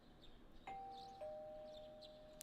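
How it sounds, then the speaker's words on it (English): A doorbell in Persona 4 Golden gives a soft two-tone ding-dong that lingers and fades, faint and alone in a quiet room. "You hear the doorbell ringing."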